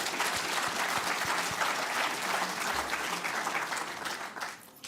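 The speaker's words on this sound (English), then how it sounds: "Let's give our teachers a round of applause." A crowd applauds teachers at an exam results announcement, sustained dense clapping throughout that trails off at the very end, moderately distant.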